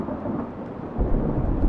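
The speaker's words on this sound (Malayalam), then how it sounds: "ഭയങ്കര ഇടിയും മഴയും" Thunder rumbles low and heavy under steady heavy rain during a storm, swelling louder about halfway through and staying close and full with no talk.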